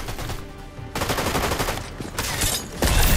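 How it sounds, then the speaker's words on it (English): Gunfire in a hide-and-seek video game: repeated loud bursts of rapid shots in close succession, with no talk. "Someone shot Kevin."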